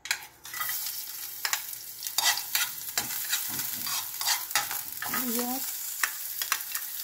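Garlic sizzles and fries in a little oil alongside ground pork in a wok for a stir-fry with green beans, with steady frying broken by several utensil stirs and scrapes, and a brief spoken word.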